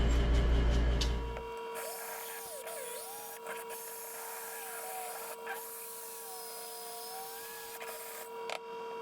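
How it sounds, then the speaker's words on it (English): A Vevor rotary flex shaft tool runs with a steady, high mechanical whine and hum after a brief loud low thump at the start, continuing evenly at close range. "looks like I might have to resort to using the Viva rotary flex shaft tool"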